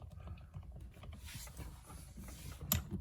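Quiet mechanical clicking and grinding as a bolt is tightened on a Porsche Boxster 986 steering wheel during a custom install, close and low, ending with a brief sharper clack.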